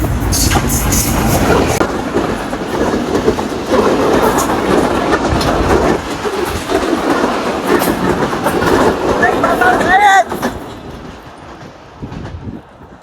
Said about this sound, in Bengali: দেখতে ট্রেন চলে আসছে